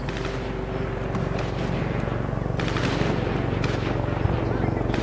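Kalashnikov rifle fire in the Max Payne 3 video game rattles in sustained, loud automatic bursts over dense street-combat noise, with a voice talking underneath.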